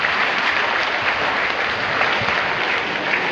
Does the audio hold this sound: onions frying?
no